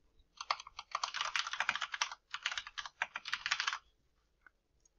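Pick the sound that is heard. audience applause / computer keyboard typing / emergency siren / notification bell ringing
computer keyboard typing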